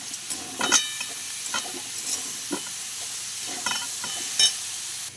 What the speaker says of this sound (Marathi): डाळ परतून घ्यायचे आहे आणि ते गुळ ॲड केलेलं आहे पूर्ण मिक्स करून घेऊया